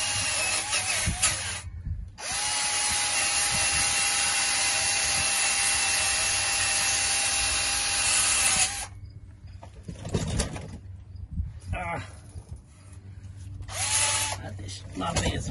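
A power tool scrubs rust from a corroded muffler during a muffler repair, with a loud, continuous whine for about eight seconds, followed by short, intermittent bursts as a person talks between them.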